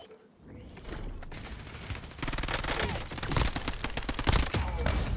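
Rev 46 gunfire in Call of Duty, rapid automatic bursts of crackling shots that grow denser and louder partway through, with mechanical clicks, heard at close range.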